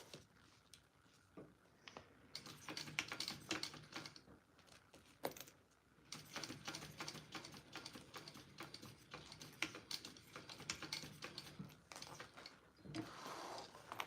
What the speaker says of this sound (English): we're just stitching along the short side of the cut right here